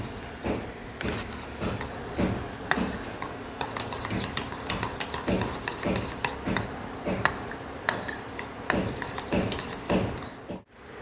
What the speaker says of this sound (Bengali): 1 চামচ গুঁড়ো দুধ দইয়ের মধ্যে ফেটিয়ে নেব